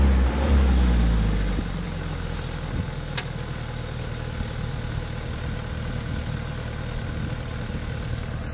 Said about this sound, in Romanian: Lasă audă și motorul.